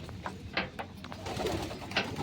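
Pigeons coo softly nearby in their coops, a few low murmuring calls over quiet background rustling.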